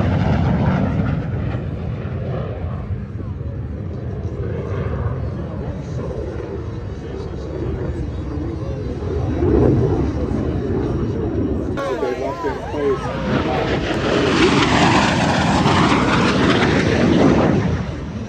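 A MiG-17 jet fighter makes a pass over the Camarillo airshow, its engine a loud, continuous roar that swells and shifts in pitch toward the end, with crowd chatter and a spoken voice underneath.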